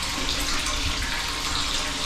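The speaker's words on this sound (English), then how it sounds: "we have down here our cistern, and look at that water coming in." Spring water pours steadily into a cistern, a close, continuous rushing splash with no pauses or other sounds.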